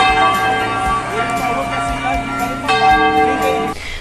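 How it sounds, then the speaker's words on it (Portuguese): Church bells in an eighteenth-century colonial town in Minas Gerais peal loudly and close, overlapping strikes ringing back and forth with long resonant tones, the rhythmic clanging continuous under faint background sound. "sendo muito emocionante ouvir o badalar desses sinos que se comunicam entre si."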